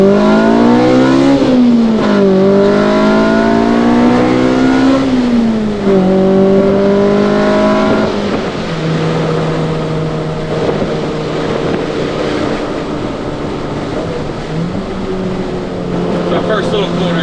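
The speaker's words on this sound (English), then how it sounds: "this Hks exhaust sounds amazing" HKS exhaust on a DA9 Honda Acura Integra as it accelerates: a loud, raspy engine note climbs through the revs, drops at each gear change and rises again, then settles into a steadier drone, with a voice talking over it.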